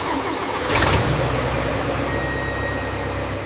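Old bulldozer engine cranking briefly, then catching and settling into a rough, steady rumble, close and loud with no talk.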